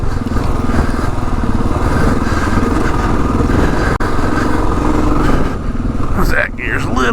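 A 2022 Kawasaki KLR 650 dual sport motorcycle rides a dirt trail, its engine droning steadily and loud throughout with rattling and crunching over the ground, the revs dropping briefly near the end.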